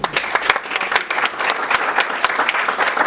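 Dense audience applause with sustained clapping from a crowd, steady and fairly loud throughout, no talk over it.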